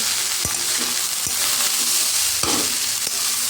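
Biryani being reheated and stirred in a pan, with mutton fat added, sizzles steadily throughout while a spatula scrapes in several distinct strokes, close and moderately loud, with no talking.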